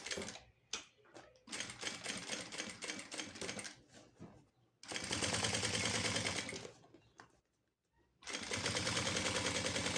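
Sewing machine stitching a line on fabric for a small zip pouch, running in loud, rapid bursts close up with short pauses between runs.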